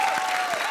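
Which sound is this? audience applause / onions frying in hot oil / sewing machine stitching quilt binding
audience applause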